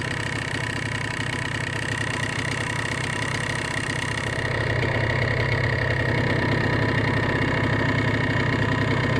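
A Polaris 300 Sportsman ATV engine idles steadily up close, a continuous mechanical drone with a faint knocking texture that thickens slightly partway through; no voices.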